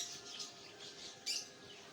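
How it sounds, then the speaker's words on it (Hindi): Birds chirp faintly in a garden on a cloudy morning after rain. Light high tweets repeat through a soft background hiss, with one slightly louder call near the end. "परिंदों के चहचहाने की भी आवाज़ें आ रही हैं।"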